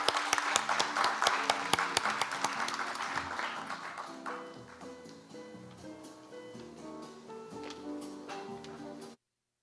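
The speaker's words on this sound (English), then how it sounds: "please welcome him with a big round of applause" Audience at a public HR conference applauding to welcome a keynote speaker, crisp individual claps at first that fade into a quieter, lingering tail before cutting off.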